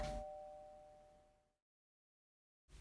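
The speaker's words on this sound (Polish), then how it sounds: "Jejku, ktoś dzwoni," A faint doorbell chime rings once in a quiet indoor scene with toy figures, its tone decaying slowly before cutting to silence.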